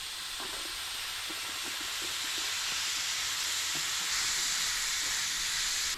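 Corn cooking in a hot covered pan gives a steady, even sizzling hiss with faint scattered pops, continuous and alone throughout.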